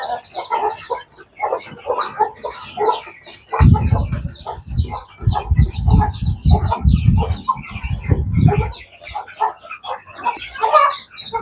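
Chickens cluck and squawk repeatedly, several birds nearby, with a busier burst of clucking and low rustling in the middle.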